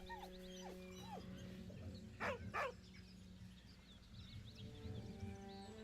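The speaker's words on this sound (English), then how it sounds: "With a deep, heartbroken whine, the dog bows his head." Scratch, the dog in Baldur's Gate 3, whines softly, with several short rising whimpers and a pair of louder yelps, faint over a low ambient game background.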